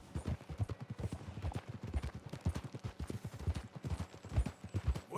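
Horse hooves clip-clop in a steady, continuous rhythm through Red Dead Redemption 2, the cheap horse trotting along at moderate volume with no talk over it.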